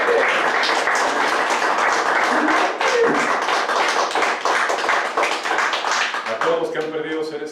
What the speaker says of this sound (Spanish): Yo le doy un aplauso a Jesús.